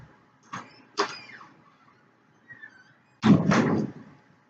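A door opens and shuts as a cat tries to slip outside, giving a few soft knocks and creaks followed by a heavier closing thunk, nearby and with no talking.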